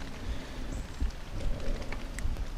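Rain falling steadily on a tree umbrella above a hunting saddle in the woods, a dense close patter with scattered heavier drops and no talk.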